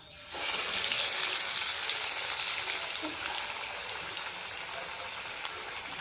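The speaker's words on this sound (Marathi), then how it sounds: "अशा प्रकारे आपण सर्व काही तळून घेऊयात।" Kebabs fry in hot oil, a steady bright sizzle that starts abruptly and holds at an even, moderate level with small crackles and pops, no talk.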